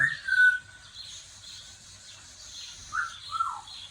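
A pet parrot calls out in a few short, shrill whistles and squawks at the start and again near the end, fairly close and clear over a quiet, chilly outdoor background.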